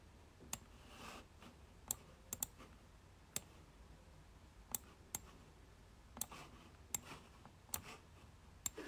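A Silhouette Cameo cutting machine cutting pink paper, heard as faint steady whirring with irregular sharp clicks and ticks scattered through, quiet and nearby.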